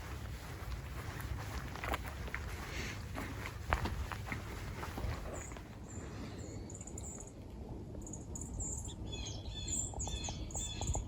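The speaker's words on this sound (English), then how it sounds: "There was a lot of bird calls going on. I think there was about 6 or 7 different birds that we were hearing, and some really pretty calls." Several kinds of wild birds call and chirp around a lakeside loop trail in a state park. Steady wind and a low rumble sit underneath, and bright, varied bird song grows clearer and busier in the second half.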